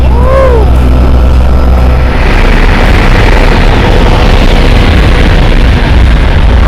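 A loud, steady roar of aircraft engines inside the cabin of a skydiving plane, with a brief rising whine at the start, continuous and close throughout.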